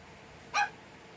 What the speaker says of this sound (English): besides this annoying dog